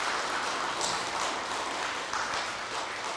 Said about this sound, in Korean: 우리 다 같이 큰 환영의 박수를 한번 올려주시기를 바랍니다